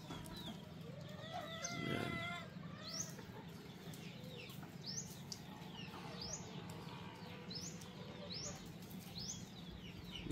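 Chickens cluck and call around a goat pen on a farm in the morning, with a rooster crowing now and then. Short clucks and chirps keep coming over a steady background hum, and brief voices can be heard.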